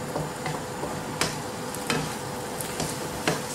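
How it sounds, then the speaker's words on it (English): Minced pork with ginger puree, garlic and spices is stirred in a hot pan, sizzling steadily while a spoon scrapes in irregular clinks and strokes, close and alone. "give that a very thorough stir."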